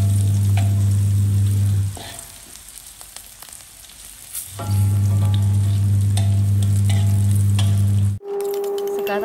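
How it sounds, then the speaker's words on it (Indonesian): Salted dried fish frying in oil in a pan gives a loud, dense sizzle that drops away for a couple of seconds mid-clip, then returns at full strength before a brief break near the end. "Lanjut kita goreng juga ikan asin atau ikan kering."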